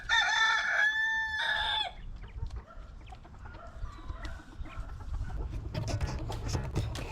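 Roosters crow with loud harmonic calls over the first two seconds, then a scattered flock of small roosters and chickens clucks and chatters at close range, growing busier toward the end.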